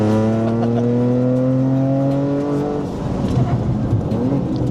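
Shelby GT500 V8 revving hard on a track at a motoring festival, a loud sustained engine note climbing steadily, then dropping into a rougher, broken rumble as it lifts off.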